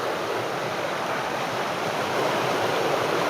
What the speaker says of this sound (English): Gorgeous river flowing again.